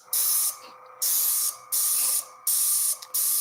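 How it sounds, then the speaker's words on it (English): Five bursts of aerosol spray, each a loud, close hiss lasting about half a second with short gaps between. "She is spraying off crap."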